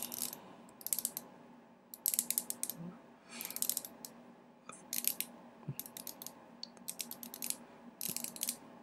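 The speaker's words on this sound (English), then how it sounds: "yeah, definitely a lot more resistance with this new bezel spring" Close, crisp ratcheting clicks come in quick repeated bursts as a Seiko dive watch bezel with a new bezel spring is turned, with short pauses between turns and no talking.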